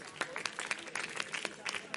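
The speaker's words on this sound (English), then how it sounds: "round of applause for this team, please" Audience applause for a team called up to share their idea at a forum on the global Islamic economy, a scattered burst of clapping from a modest crowd, fairly faint and distant, with voices mixed in.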